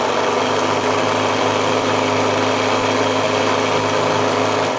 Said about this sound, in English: Let's check out the pump.